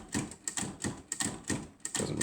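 Keys of a vintage 1960s Olivetti Studio 45 typewriter, struck in a run of about six crisp clacks with mechanical rattle between them, close and fairly even in rhythm, no talking.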